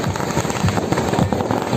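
Dense crackling bursts of firecrackers going off in rapid succession at a Kali Puja fair, loud and continuous throughout.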